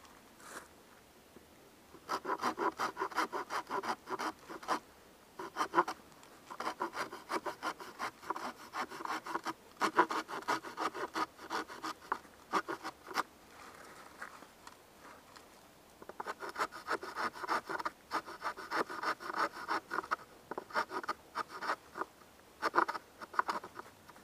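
A sharp-toothed wood saw cuts a notch in wood outdoors, with bursts of rhythmic rasping strokes separated by short pauses, fairly close and moderately quiet, without talking.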